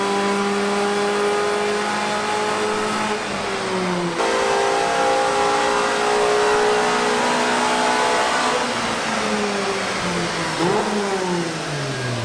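A modified 200 BHP Ford Fiesta MK6 engine revving on a rolling road, loud and close, rising and falling in pitch through several sustained pulls.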